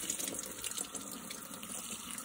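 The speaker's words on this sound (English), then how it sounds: "you just wanna rinse it because you still want the citrus in it" Grape leaves rinsed under a running kitchen tap, a steady close hiss of water splashing over them for the whole stretch, with no talking.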